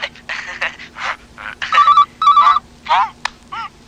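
An electronic phone ringtone trills in short repeated bursts while voices talk excitedly over it.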